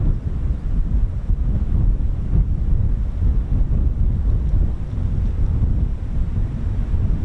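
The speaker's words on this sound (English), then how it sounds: "Absolutely breezy at 31 knots at the moment" Strong, steady wind buffets an outdoor microphone at an RAF air weapons range, gusting at just over 35 miles per hour; a continuous low rumbling roar fills the whole stretch with no voices.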